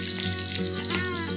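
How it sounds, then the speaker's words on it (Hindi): Hot oil crackles and sizzles with quick popping bursts as mustard seeds, green chillies and curry leaves temper, close by, steady through the short moment. "राई को अच्छे से चटकने देंगे।"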